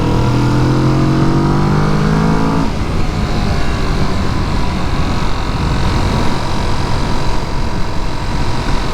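A 2019 Kawasaki Vulcan S motorcycle engine revs hard with the throttle held wide open. A rising tonal whine breaks into a loud, sustained, roaring rush of engine and wind up close, with no talking.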